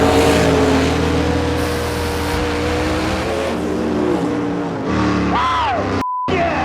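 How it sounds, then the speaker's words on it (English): Drag race car at full throttle, its engine roaring loud and steady with harmonic whine, dropping in pitch near the end before a brief cutout; no talk. "That was one of the fastest passes I ever made in that car."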